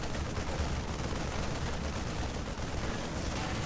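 StarCraft Terran units fire on a Zerg Overlord in a video game match, a dense, continuous roar of rapid gunfire and noise at steady loudness with no pauses.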